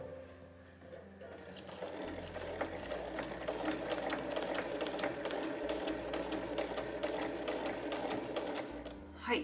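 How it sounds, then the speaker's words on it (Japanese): Home sewing machine backstitching through 8-oz canvas of a tote bag with a folded leather tab under a Teflon presser foot, a loud steady whirring run of clattering needle strokes, with a short starting pause. "しっかりと返し縫いをしておきます。"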